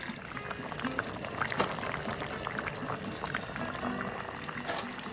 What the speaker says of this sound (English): The minestrone's boiling now.